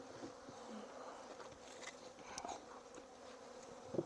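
Honeybees robbing a backyard hive make a steady, fairly faint outdoor buzz of many insects, with an occasional louder bee passing close by.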